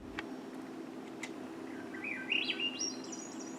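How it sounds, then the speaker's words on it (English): Small songbirds chirping and warbling over a steady low hum, thin high tweets rising to a brighter trill near the end, played to accompany an artist's abstract animation. "in sync with the bird songs"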